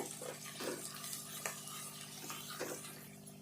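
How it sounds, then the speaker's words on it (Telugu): Onions fry in a pan for an old-style raw fish curry, stirred with a ladle: soft, quiet scraping strokes every second or so over a faint continuous sizzle. "ఉల్లిపాయ అంతా కూడా ఇట్లా మంచిగా దోరగా వేగాలి"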